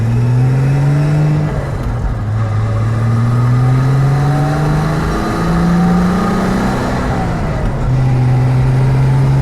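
A 1975 Triumph TR6 convertible driving, its engine loud and close, pitch climbing through each gear then dropping at every shift in a repeating rev-and-shift pattern with road and wind noise.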